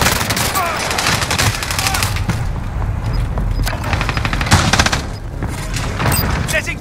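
Dense bursts of automatic gunfire and heavy booms hit in rapid, overlapping volleys in Call of Duty: Modern Warfare, loud and close, with brief game voice callouts among the shots.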